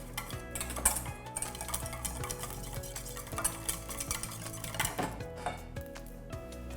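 Leek and rocket salad with chives being tossed and stirred in a bowl, a steady busy scraping and clinking of utensils against the dish throughout, close and moderately loud with no talking.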